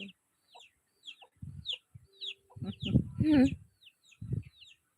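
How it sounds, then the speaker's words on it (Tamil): A chicken clucks in short bursts while small birds chirp repeatedly in the background; a person speaks briefly in the middle. "கோழி வந்து அடையிறதுக்கு என் காலுக்கு நிற்குது"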